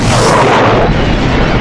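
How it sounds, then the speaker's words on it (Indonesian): A bazooka round strikes a police car and explodes, flipping it over: one loud, close, booming blast whose heavy rumble fills the whole moment and fades out. "dia melepaskan tembakan bazooka yang berhasil membuat mobil yang membawa John terguling"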